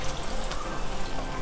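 Moong dal pakoda batter frying in hot oil, a steady close hiss and crackle of bubbling oil that continues without pause.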